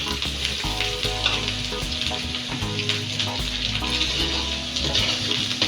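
Boiled giant taro root frying in a hot pan with ground cumin and coriander, a loud continuous sizzle with bubbling crackle and occasional stirring, nearby and without speech.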